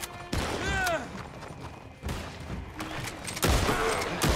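Bursts of gunfire from Red Dead Redemption 2 crack out in a few separate volleys, sharp and fairly close, mixed with other game sounds and a voice speaking over them.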